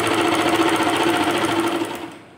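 A sewing machine stitches along the hem of a salwar leg cuff in one fast, loud, continuous whir close by, tapering off as it slows to a stop.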